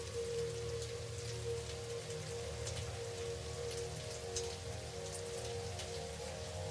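Continuous game rain in Satisfactory's 1.2 Experimental build, a dense hiss of falling drops layered over a steady low hum, unbroken and without speech.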